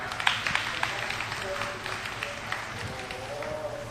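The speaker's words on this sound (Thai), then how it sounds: "ขอเสียงปรบมือต้อนรับ คุณจตุรนฉายแสงครับ" An audience applauds to welcome a guest speaker, a dense, continuous patter of clapping with a voice partly over it.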